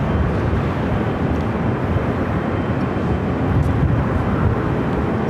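A departing airliner roars off runway 24 left at Los Angeles International Airport, a steady broadband jet rumble holding loud and constant throughout with no voices over it.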